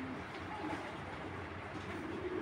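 A grizzle racing pigeon coos softly in a low, murmuring rhythm against steady background hiss, faint and close, with no talking.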